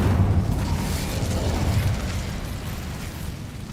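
Casting the Incendio fire spell in a video game sets off a loud, close fiery burst that whooshes and rumbles, then tapers into a softer crackling roar over a few seconds.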